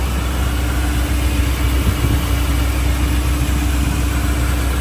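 A Chevrolet 283 V8 with a 4-barrel intake and electric choke runs at a steady idle in a 1961 Chevrolet Apache custom C10 truck, a constant low rumble heard up close with no talking.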